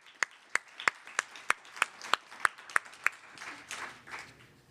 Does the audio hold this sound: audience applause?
yes